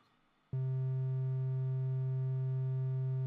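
Steady triangle-wave tone from an Elektron Digitone II synthesizer, set up to emulate an analog A4, beginning abruptly after a brief quiet moment and then holding at one pitch, loud and even with no talking.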